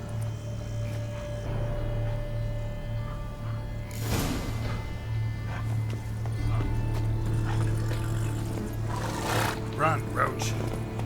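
Roach, the horse in The Witcher 3: Wild Hunt, gallops with steady clip-clopping hooves over a continuous low drone of game ambience, with a couple of louder rustling bursts partway through.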